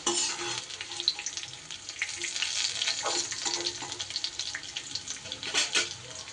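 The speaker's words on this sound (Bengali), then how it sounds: "ফুলকপি আমার সুন্দর করে ভাজা হয়ে গেছে" Cauliflower florets finish frying in oil for a vegetarian cauliflower-paneer curry, producing a soft, continuous crackling sizzle with bursts of stirring and occasional louder spatters, quiet and fairly close with nobody speaking.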